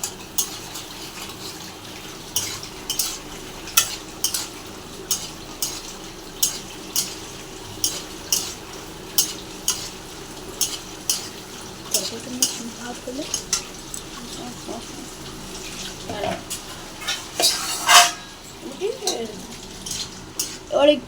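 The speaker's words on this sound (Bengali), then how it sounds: "নাড়তে হবে, নেড়ে যেতে হবে।" A brinjal, potato and drumstick curry is stirred in a pan with regular sharp scrapes and clinks of a metal spoon over a low sizzle, about one stroke every second. The strokes grow busier near the end, and someone speaks at times.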